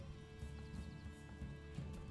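Quiet clip-clop of hooves and a soft whinny from a horse in the medieval city-building video game Manor Lords, faint and sitting over a steady low hum of in-game ambience and music.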